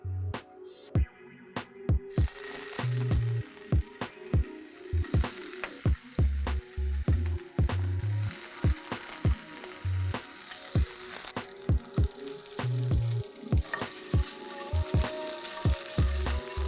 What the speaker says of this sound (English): I'm going to take a pan, add oil and fry the koftas to just get little color on them.